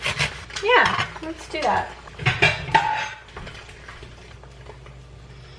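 A knife scraping and cutting the burnt part off a slice of bread, with clattering kitchenware in a cluster of sharp knocks and scrapes early on, then quieter, while a person talks.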